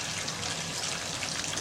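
Water pours steadily over roaches in a staged flash flood, a continuous close splashing rush with no voices.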